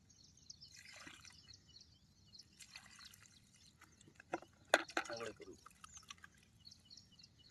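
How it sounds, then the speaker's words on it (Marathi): Water poured onto a freshly planted sapling trickles and splashes in short, uneven bursts, strongest around the middle, with voices talking nearby. "आता याला पाणी टाकलं आम्ही"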